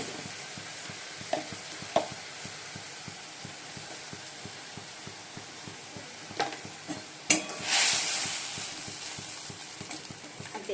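Spice paste of cumin and coriander powder, ginger paste and tomato with turmeric frying in a pan, a steady low sizzle broken by occasional scrapes and clatters of stirring, with one louder knock and hiss near the end.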